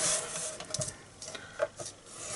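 A scoring tool rubs and scrapes along Night of Navy cardstock in short, quiet strokes close by, a few separate passes with brief pauses between them.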